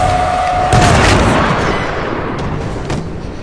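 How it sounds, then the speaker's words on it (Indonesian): A single loud firearm gunshot in a film scene, a sharp booming crack followed by a long reverberating decay, with a faint tone fading beforehand. "Beth sudah bersiap menembak pintu tangga daruratnya dengan senjata api"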